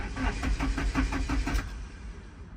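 A Nissan 240SX engine cranking on the starter with the key, a steady rhythmic churn of about eight even pulses that stops without catching, close and fairly loud.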